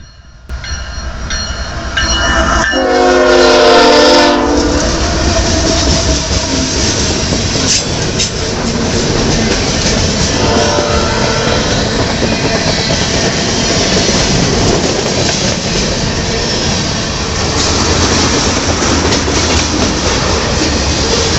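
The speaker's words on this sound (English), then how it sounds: "here comes a inbound Canadian National with a Union Pacific on the second engine" An inbound Canadian National freight train led by a Union Pacific second engine rumbles past close by, loud and steady with rolling wheel clatter, after a brief horn-like tone near the start.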